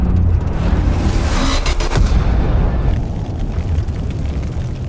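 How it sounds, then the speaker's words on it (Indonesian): A heavy, rumbling boom with a burst of noise, a tank cannon shot and explosion against a German Panzer tank, followed by a lingering low roar. "Saat tank panzer mendekat ke arah umpan itu, Ivushkin melepaskan tembakan"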